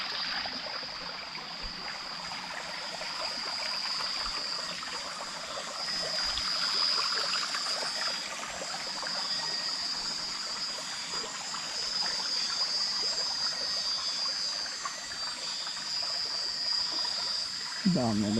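Shallow river water low from severe dry-season heat rushes and trickles steadily throughout, a continuous close wash with a faint high whine and occasional background noise.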